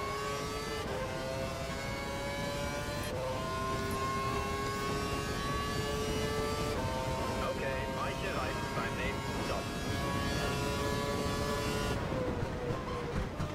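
Formula 1 race car engine in the video game F1 2012, a loud continuous high-revving whine with stepped pitch rises and drops at gear changes, held steady throughout.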